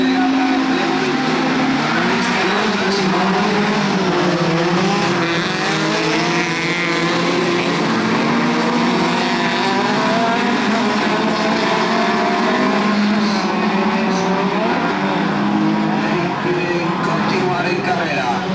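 Race cars in the final B of the division 2 category at the CEAX Arteixo 2026 event drone loudly and continuously with layered engine tones, while a commentator speaks over the noise throughout.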